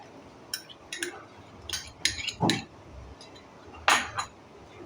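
Cashew paste is spooned into yogurt in a bowl, with a handful of scattered, soft spoon-on-bowl clinks and taps over quiet background.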